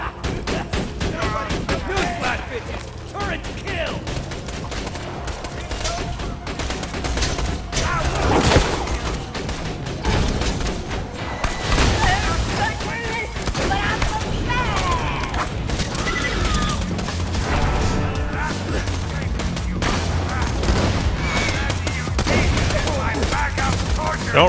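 Sustained, chaotic gunfire and thudding explosions from the shooter game Borderlands 2 fill a long stretch, with overlapping shots and impacts under continuous voices.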